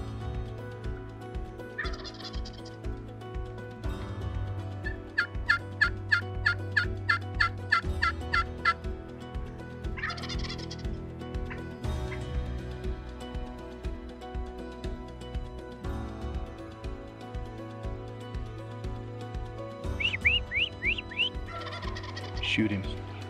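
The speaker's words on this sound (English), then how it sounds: "that turkey came in gobbling his head off" A Merriam's wild turkey gobbling during a mountain hunt at elk camp: rapid rattling gobbles come in a few separate bursts, moderately distant, over a steady low outdoor background.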